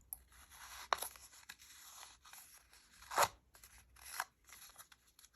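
A fingernail scrapes and distresses the edge of thin paper in quiet, close, intermittent scratchy strokes, with a few sharper crackling bursts.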